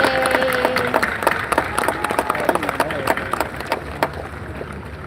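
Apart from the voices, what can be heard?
graduation audience applauding family and friends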